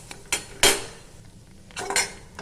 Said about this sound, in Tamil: இதை நல்லா வாசம் வர அளவுக்கு ட்ரையாக வறுத்துக்குங்க